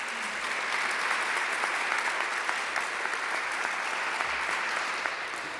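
Steady crowd applause fills a community center after an event announcement, dense and sustained throughout with no talk over it.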